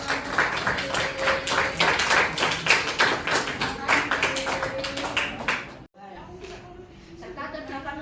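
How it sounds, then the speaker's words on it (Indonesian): Classroom students in Indonesia give three classmates a round of applause, with brisk, dense clapping for about six seconds that stops abruptly, followed by a quieter room with a few stray sounds. "Beri aplaus untuk mereka bertiga"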